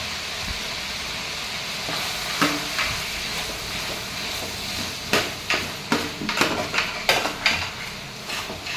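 Cinnamon and coconut paste with ginger, garlic, poppy seeds and cloves frying in a pan as it is stirred, a soft sizzle under clattering spoon scrapes that grow louder and quicker toward the end.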